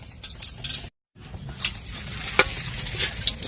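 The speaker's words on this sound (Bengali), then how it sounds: "এখন ফোড়নে দিয়ে দিচ্ছি গোটা জিরা, ধনেপাতা, তেজপাতা এবং হালকা জিরে" Whole cumin, coriander and bay leaves frying in hot oil, a continuous close sizzle with stirring scrapes and a few sharp pops, broken by a brief silent gap.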